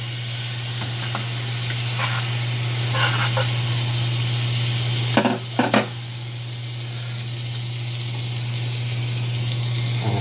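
An egg fries in melted butter in a pan, giving a steady close sizzle with soft crackles and a couple of sharper spatters midway, alone without speech, over a low constant hum.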